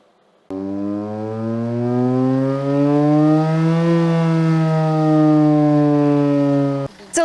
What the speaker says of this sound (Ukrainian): лише перші секунди сирени у селі Липини, що біля Луцька